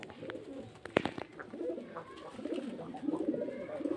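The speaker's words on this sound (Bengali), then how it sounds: "এই যে পায়রা দেখতে পাচ্ছেন" Pigeons coo steadily at a busy pigeon market in Beldanga, Murshidabad, with repeated low throaty calls that swell and overlap, plus a few sharper clatters and flutters near the start, all close by.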